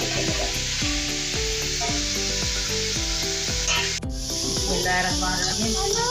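Partridge meat browning in a karahi pan gives a steady, dense sizzle and hiss throughout, with a brief stir or clatter midway and faint background music underneath.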